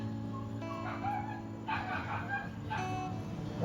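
Dog barks and whimpers in a household setting, recurring in short bursts over a steady background hum, moderately close.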